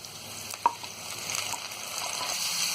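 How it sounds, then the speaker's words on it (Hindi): Tomatoes dropped into a pan of frying onion, garlic and ginger for malai kofta gravy: a brief clatter, then a steady, moderate sizzle that slowly builds. "अब डाल देंगे इसमें ये टमाटर"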